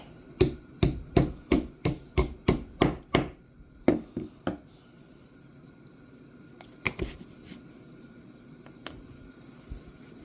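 A run of about ten sharp metallic taps in quick, even rhythm as a hammer pin is knocked out of an old Ithaca Model 37 20-gauge shotgun, then a few scattered knocks and softer clicks after a pause.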